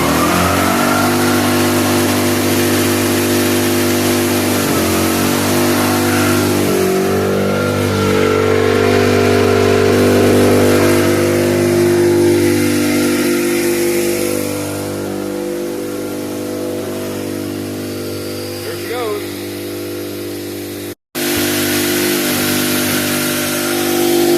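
A remote-throttled engine on a planter climbs from a steady idle hum up to a loud, screaming wide-open roar, holds there, then cuts out abruptly for a moment before resuming.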